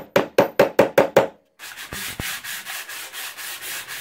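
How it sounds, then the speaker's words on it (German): A metal piece is hand-sanded while making a Norman shield: six sharp, evenly spaced scraping strokes, a brief pause, then a steady run of quicker rubbing strokes, close and fairly loud with no talking. "schleift jetzt noch unser zweites Metallstück"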